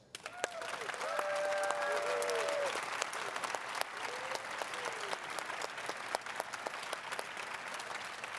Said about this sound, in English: I would ask a last but very loud applause.